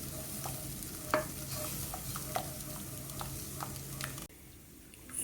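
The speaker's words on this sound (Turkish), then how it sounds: "su ve sütünü ekleyip güzelce topak kalmayacak şekilde karıştırıyorum" Water and milk are stirred into mushroom soup in a pot to work out lumps, a spoon scraping and clinking in a steady rhythm against a soft sizzling background, quiet and close before stopping abruptly.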